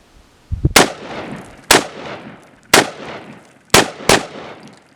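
AR-15 rifle with a laser sight fired at water bottles outdoors: five loud, close shots with sharp cracks and ringing decay, roughly a second apart, the last two nearly back to back.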